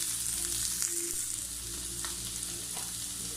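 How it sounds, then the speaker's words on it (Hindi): Sliced onions and capsicum fry gently over low heat, a soft continuous sizzle with occasional stirring scrapes, close and even, no talking. "बिल्कुल हल्की आंच पे इसको फ्राई करें।"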